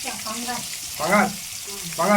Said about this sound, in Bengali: এই যে যে মাছটা দৈবকি নিয়ে এসেছিল সেই মাছটা এখন দিদি ভেজে নিচ্ছে